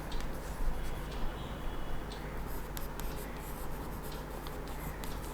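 Pen or marker writing on a board during an accounting lesson on partnership accounts, a steady scratchy scribble running throughout over a loud constant background hiss, with no talk.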